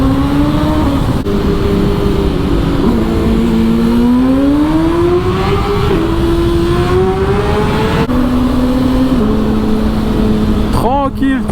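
A BMW S1000RR 2025 motorcycle fitted with a full Akrapovic exhaust line holds a loud, close engine drone that climbs and dips in pitch as it accelerates to overtake. A short high rev comes near the end.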